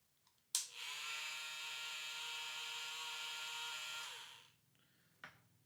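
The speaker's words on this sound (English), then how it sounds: "Our tool of choice is this Dremel." A Dremel rotary tool fitted with a small sanding ball whirs at steady high speed for about three and a half seconds, starting abruptly, then spinning down, with a brief click afterward; close and fairly loud, no talking.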